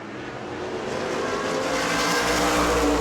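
Race cars lap the New Smyrna oval during World Series racing, a dense continuous roar of several engines building in loudness as the pack sweeps closer.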